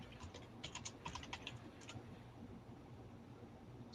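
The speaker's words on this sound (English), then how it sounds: "I heard the keys." Faint, rapid tapping on a computer keyboard in short bursts over a steady background hiss, then trailing off.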